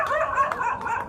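Dogs bark and yip near a Ganesha shrine at a temple in Kanipakam, a short burst of close, excited yelping.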